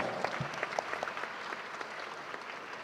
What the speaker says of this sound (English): Can you please give her a round of applause one more time?